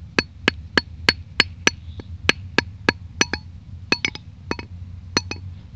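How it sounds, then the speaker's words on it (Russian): A small hammer repeatedly taps the spine of a forged knife driven into very hard end-grain hardwood, giving about twenty sharp, ringing metallic strikes at an uneven, steady pace, close and clear over a low background hum. "взял просто ножом и начал по обуху лупить молоточком"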